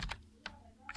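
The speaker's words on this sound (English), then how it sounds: "As I have been typing in the cells" Keys on a computer keyboard are tapped in a few quick clicks with short gaps between them, crisp and near in a quiet room.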